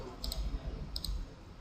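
Two pairs of quick, faint mouse clicks in CAD drafting software, spaced about 0.7 seconds apart over a low background rumble.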